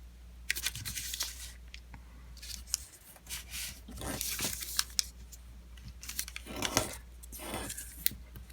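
Origami paper being folded and creased into a flasher model, with crisp rustles, scrapes and soft crinkles coming in irregular bursts close by.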